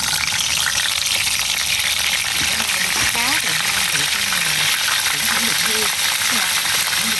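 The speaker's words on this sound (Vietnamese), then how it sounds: "Giờ mình chuẩn bị chiên cá hay nè." Fish frying in a pan of hot oil, freshly netted and cooked at home. A loud, steady sizzle runs throughout while people talk over it.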